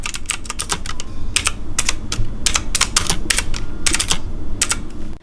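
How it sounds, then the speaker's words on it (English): Quick, crisp clicks of mechanical keys being typed in bursts, close and clear, with brief pauses between runs. "right here I have my keyboard, and I really like the ASMR sounds of it"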